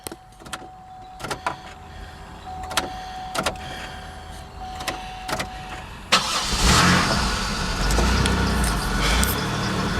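A 2001 Chevy with a newly fitted fuel pump gives a few faint clicks and an electric pump whine, then the engine catches about six seconds in and settles into a steady, loud idle.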